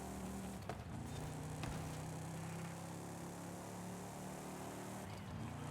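Turbocharged car engine racing in Forza Horizon 5, a steady loud drone with sustained engine harmonics and a brief spike of higher whine, continuous without pauses.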